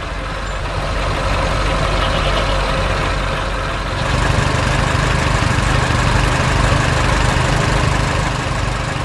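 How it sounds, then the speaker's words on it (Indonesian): A green tractor with yellow wheels drives across a grassy park, its engine producing a steady, loud, continuous rumble that grows slightly fuller partway through, with no talking. "Traktor hijau dengan roda kuning sedang berjalan di taman yang hijau di bawah langit ceria."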